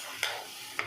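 A spoon mixes a mashed boiled-potato vada pav filling in a pan, with two brief scraping strokes over a quiet background.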